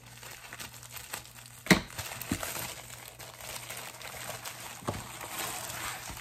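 Plastic packaging of a paint-by-number kit being cut and torn open, with a sharp crinkle and snap followed by quiet rustling and handling, close and faint.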